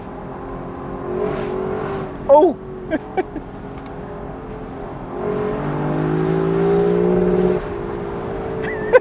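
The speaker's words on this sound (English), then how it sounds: "Oh yeah, those downshifts are so addicting." Engine of a 2021 Lexus LC 500 Convertible, driven in manual mode, blips and revs on downshifts, its pitch rising and falling in surges under steady road and wind noise, with a brief exclamation from the driver.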